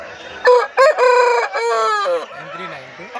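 A rooster at a busy Sunday hen market in Pileru crows loudly and close, a bright, harmonic call of a few seconds with a couple of short clucks leading in and softer fowl noise trailing after.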